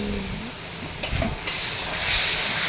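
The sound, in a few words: fish curry cooking and being stirred in a pan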